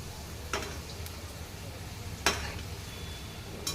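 Modak dumplings fry in a pan over high gas flame with a low steady sizzle, broken by a few brief scraping or clinking touches of a utensil.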